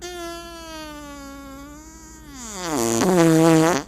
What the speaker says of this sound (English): That's not a question. That's just my fart.